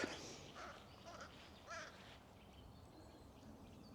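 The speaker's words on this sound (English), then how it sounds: "There's a crow and it's coming right over our heads" A crow flying overhead gives several hoarse caws in the first two seconds against an outdoor morning background of steady hiss, then the calls fade away.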